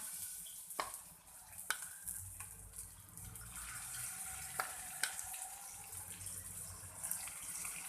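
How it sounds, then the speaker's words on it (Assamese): Paneer frying in hot refined oil for chilli paneer gives a faint, steady sizzle broken by scattered sharp pops and crackles. "এতিয়া আমাৰ তেলখিনি গৰম হৈ গৈছে আমি এতিয়া ইয়াত পনীৰবোৰ দি যাম"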